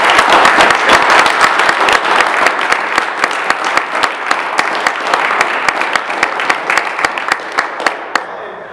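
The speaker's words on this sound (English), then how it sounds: "I'd like to give a round of applause for all these people." A crowd gives a long round of applause for a group of young men at a gathering, dense steady clapping at full loudness for about eight seconds with sharper individual claps poking through, thinning slightly at the very end.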